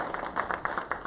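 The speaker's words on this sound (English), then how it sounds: "Let's give him a round of applause." An audience welcoming a guest speaker at a startup lab event with a round of applause, many hands clapping in a quick, even rhythm, moderately close and alone.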